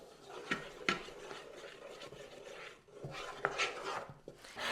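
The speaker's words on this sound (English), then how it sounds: "It's important right now to stir constantly so you don't burn the marshmallows." A spoon stirring melting marshmallows in a pot for cereal treats: soft scraping and rubbing strokes against the pot in a steady, unhurried rhythm, with a few sharper knocks, close and fairly quiet.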